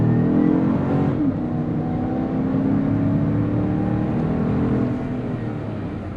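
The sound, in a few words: 2020 GMC Yukon SLT accelerating from 0 to 60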